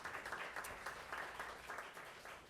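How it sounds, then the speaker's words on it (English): Applause from a food-festival crowd for the host committee, a quiet, distant patter of clapping hands that holds steady with small swells over a couple of seconds. "Give them a round of applause."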